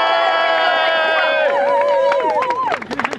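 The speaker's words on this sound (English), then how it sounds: "you can have a huge cheer of love and solidarity" An audience at an anti-fracking and tar sands protest gathering breaks into cheering and excited crowd noise, rising over a held tonal sound that fades as the clapping and shouts take over.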